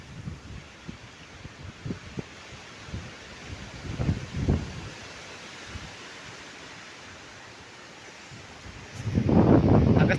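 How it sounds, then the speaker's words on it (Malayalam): Strong wind gusting through trees on a hilltop road, a constant rushing rumble with rustling bursts and a heavy gust buffeting the microphone toward the end. "പക്ഷെ കാറ്റ് ഭയങ്കര കാറ്റാണ്."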